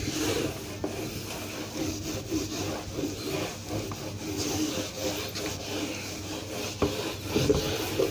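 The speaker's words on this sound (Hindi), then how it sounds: "इसको रब कर देता हूँ" Writing being rubbed off a board during a classroom lesson, repeated scraping strokes in an uneven back-and-forth rhythm, close and fairly loud, with no talk.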